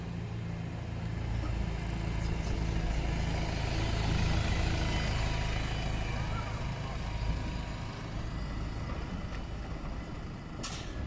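A Wright StreetLite single-deck bus pulls into Worcester Crowngate bus station, its diesel engine a steady, fairly loud low rumble over station hubbub, with a brief hiss near the end.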